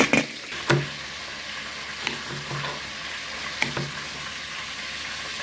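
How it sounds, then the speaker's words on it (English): Close, steady sizzling of fish frying in hot oil in a pot, with occasional clanks and scrapes of a utensil. "while our fish is frying"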